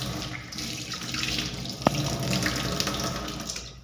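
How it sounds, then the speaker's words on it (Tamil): A household tap runs steadily into a sink in a bachelor's rented home, a continuous close splashing flow with one brief clack midway and no talking. "தண்ணி வருது, இதுங்க டேஸ்ட் பண்ணி பார்க்கணும்."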